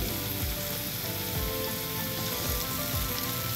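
Onion, tomato and ginger sauté in a hot pan, giving a continuous close sizzle and crackle that stays even and loud throughout, with faint stirring scrapes and no talk.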